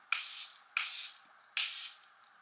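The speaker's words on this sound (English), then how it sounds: "Okay, setting spray." A makeup setting spray is spritzed onto a face three times, each a short close hissing burst starting sharply and fading within about half a second, with quiet gaps between.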